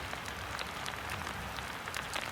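Dense, steady rain patters close by on a hard surface, with scattered crisp droplet hits and no voices.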